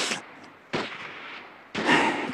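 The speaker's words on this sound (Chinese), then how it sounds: "你听听，这枪声怎么越来越稀疏了？" Sparse gunfire from a 1911 Xinhai Revolution uprising being crushed, three separate sharp bursts spaced about a second apart, each with a short ringing tail fading into quiet.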